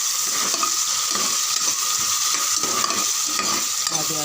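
Onion, green chillies and curry leaves sautéing in oil in a pan for parotta salna, a loud, continuous sizzle with soft stirring scrapes running through it.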